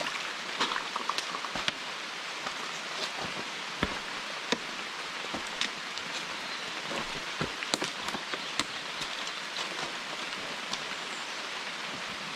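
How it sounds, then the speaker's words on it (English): Steady overnight rain patters on a DCF (Dyneema) tent on a backcountry trail, a dense, even hiss of drops with sharper individual taps scattered throughout, heard from inside at close range. "Just steady rain. It was nice. Made sleeping easy. The patter of rain on DCF."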